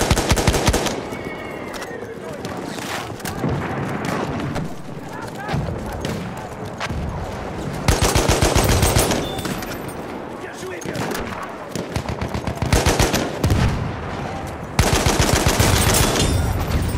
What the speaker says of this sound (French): Mitrailleuse ennemie en vue!